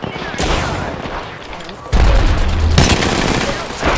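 Gunfire in the video game Apex Legends: loud, dense bursts of automatic fire crack through the clip, with a heavier blast near the midpoint, under game noise.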